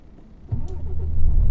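A Jeep Grand Cherokee SRT8 in an American Truck Simulator mod starts its engine: a short crank, then a low, growing rumble that settles toward idle. The sound is close and brief.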